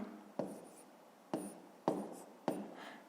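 A pen or marker writes a math expression on paper or a board, four separate scratchy strokes spaced irregularly, each starting with a sharp contact and fading, quiet and close with no voice.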